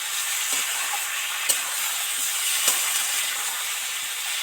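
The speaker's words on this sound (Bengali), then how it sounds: "সুন্দরভাবে ভাজা হয় মশলাটা ওই জন্য একটু জল দিয়ে ভালো করে নেড়ে চেড়ে মিশিয়ে দিচ্ছি" Steady frying hiss with a few soft scraping knocks as spice paste is stirred with a splash of water in a pan, for a fish curry with potato and papaya; no voices.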